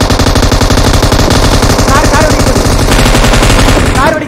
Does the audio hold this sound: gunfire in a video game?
yes